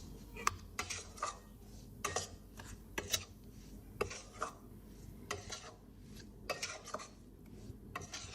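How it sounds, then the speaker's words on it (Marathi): A spoon scrapes and clinks against a pan while stirring a moong dal ladoo mixture with rabdi, in steady, repeated strokes that are quiet and close, with no talking. "आता आपण हे मिश्रण छान पद्धतीने मिक्स करून घेऊया."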